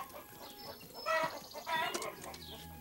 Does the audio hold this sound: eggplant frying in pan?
no